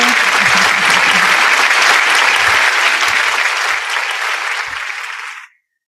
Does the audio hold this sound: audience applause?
yes